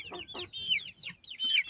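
Orpington chickens and a rooster in a backyard flock cluck in short, close bursts, several squawky calls following one another in quick succession with brief pauses between.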